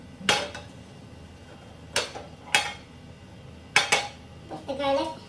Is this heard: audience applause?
no